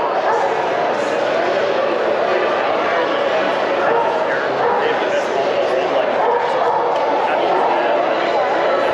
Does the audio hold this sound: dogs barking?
yes